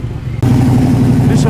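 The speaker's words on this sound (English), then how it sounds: "At this SS Commodore, ladies and gents. Beautiful. Nice and lumpy idle." A Holden SS Commodore idles at a car show, a loud, low, uneven rumble that starts abruptly and holds steady, with voices nearby.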